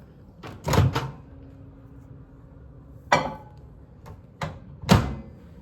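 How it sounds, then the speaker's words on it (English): A few sharp clunks and thuds of a microwave door being handled and closed, well spaced, close and fairly loud, with a faint hum between them. "now we're gonna pop it in the microwave"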